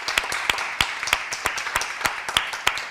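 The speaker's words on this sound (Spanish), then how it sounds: "quiero que le demos un fuerte aplauso también a nuestro cuerpo docente" Sparse, evenly spaced claps in a hall for teaching staff, sharp and fairly close, with a soft wash of further clapping underneath and no talking.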